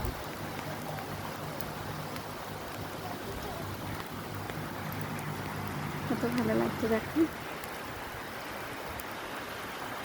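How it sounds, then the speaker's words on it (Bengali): Outdoor rain falls steadily in a continuous, even hiss across the whole stretch, with a person speaking briefly over it. "বৃষ্টি তো দারুণ লাগছে।"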